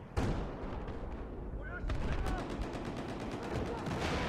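Rapid, dense gunfire from the video game Battlefield 4 rattles continuously in sustained bursts, moderately loud and unbroken, with faint voices under the shooting.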